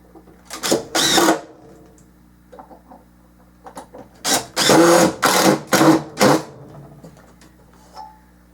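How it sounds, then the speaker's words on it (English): Screws driven into a wooden block while fitting a plastic nail-on ceiling box, heard as several loud, close bursts of power-driver whirring separated by short pauses and softer handling noises. "Screw the screws in."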